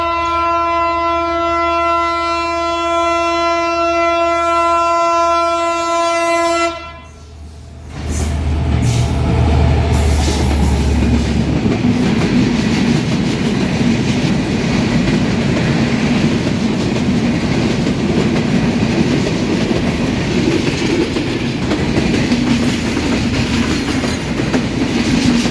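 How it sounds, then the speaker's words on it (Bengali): An Indian train passes through Darshana railway station: a loud multi-tone horn blares first, then the train rumbles and clatters past close by, a steady rolling roar of wagons on rails. "ট্রেন আসতেছে"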